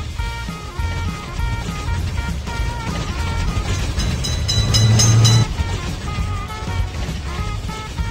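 In a children's cars-and-trains cartoon game, a train rolls past with loud, steady clickety-clack and rumbling that swells toward the middle and then eases, with bright electronic game tones layered on top.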